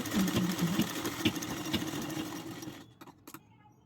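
A sewing machine runs steadily, stitching the second seam on a blouse neck piece, close and fairly loud, then stops near the end, leaving a few soft clicks and handling noises.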